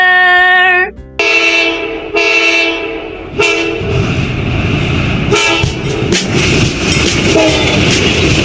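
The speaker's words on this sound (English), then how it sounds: "I hear your whistle blowing loud." A steam train whistle shrieks in a loud sustained blast, breaks off, then sounds again as the train rolls along with a rumbling, rattling clatter close by.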